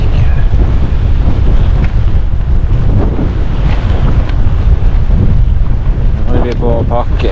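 Strong, gusty wind roars steadily across the microphone at an outdoor camp in eastern Finnmark, with a brief faint voice near the end.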